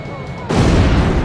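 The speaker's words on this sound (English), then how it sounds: "Friendlies are getting caught in the explosions." A loud explosion bursts in an Ace Combat aerial combat game, a sudden heavy blast that rises out of quieter engine hum and rumbles on as a dense roar.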